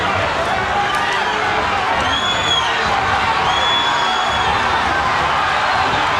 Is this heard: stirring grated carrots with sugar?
no